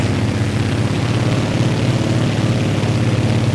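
A propeller aircraft engine in a flight simulator video game drones steadily and loudly, a constant low throbbing hum that holds at a near-even level without pauses and with no voices over it.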